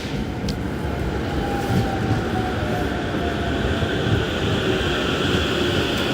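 A Tokyo train running steadily, a continuous loud rumble and rush of wheels on rails heard from inside near the windows, with a faint whine riding over it and no talking.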